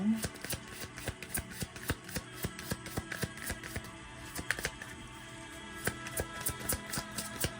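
Regular Kipper card deck being shuffled by hand, giving a run of quick crisp riffling bursts, close and fairly quiet, repeating steadily throughout.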